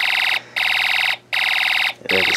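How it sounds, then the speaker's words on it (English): An Elenco Snap Circuits speaker sounds a harsh, continuous alarm tone that pulses in three long bursts with short gaps, then cuts off as a brief sound follows. "it will kind of only do one function when I turn on the switch, which is just like a continuous alarm sound."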